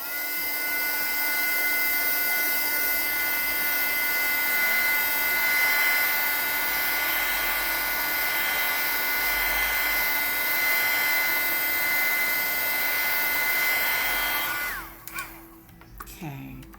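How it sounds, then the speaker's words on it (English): A heat tool blows hot air to dry ink on a Black Ice technique card, giving a loud, steady whirring roar that runs for about fifteen seconds and then cuts off abruptly. "speed up the process by using your heating tool"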